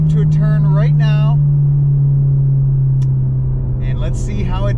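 Ford Mustang in track mode heading into a turn on stock 18-inch wheels, its engine a steady, loud low drone throughout while someone talks over it at the start and end.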